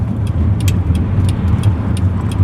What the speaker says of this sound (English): That howling sound is that massive roof rack, which at any speed above 30 miles an hour starts to get really rough and tedious.